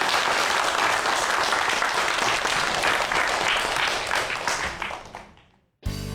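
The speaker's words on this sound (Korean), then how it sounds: "다시 한번 큰 박수 부탁드립니다" An audience claps after a science lecture about our galaxy, a loud, even wash of applause that holds steady, then fades away over the last second before a brief new sound cuts in.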